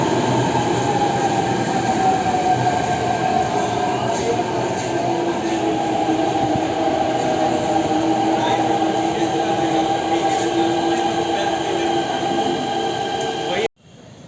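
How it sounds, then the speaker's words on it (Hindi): A metro train rumbling steadily along the tracks with a continuous drone and faint wheel squeal, ending abruptly. "ज़्यादातर लोग मेट्रो से ही सफ़र करते हैं।"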